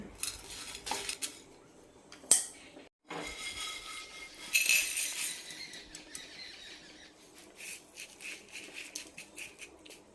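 Dry-roasted sesame seeds are tipped from the pan into another vessel: quiet metallic clinks and taps of a spoon against utensils, a brief rushing pour of seeds, then scattered light scraping, all close and faint.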